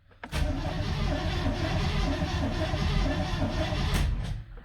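An OBS Chevy drift truck with its throttle cable not hooked up cranks and catches, then runs with a loud, rough, close engine roar for about four seconds before cutting off abruptly.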